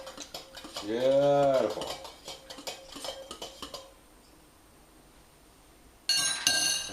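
A spoon clinks and scrapes against a mug of freshly made plunger coffee, several quick metallic taps in a row, close and clear, followed by a short burst of bright clinking after a pause; someone briefly speaks.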